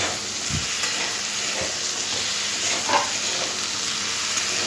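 Okra and potato are stirred and fried together in a pan, a dense close sizzle with a few soft thumps and scrapes of the spatula through the steady hiss.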